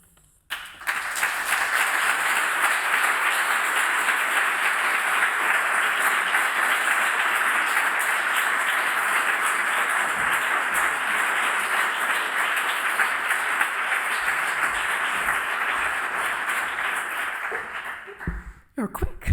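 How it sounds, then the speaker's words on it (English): Sustained applause fills a lecture hall after a talk on migration studies, a dense even roar of many clapping hands that starts abruptly, holds steady for about seventeen seconds, then cuts off. "stand there a little bit longer and take the well-deserved applause."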